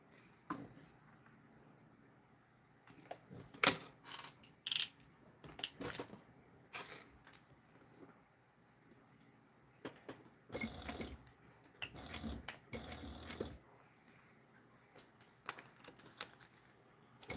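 Late-night sewing of a bag on a home sewing machine, heard in short bursts of stitching separated by quiet pauses and faint handling noises, with no talking.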